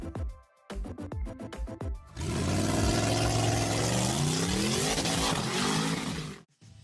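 A homemade professional drag racing car with a huge hood air intake and horn-shaped intakes revs hard, preceded by rapid clicking pulses, then a loud sustained engine roar with rising, shifting pitch that cuts off abruptly.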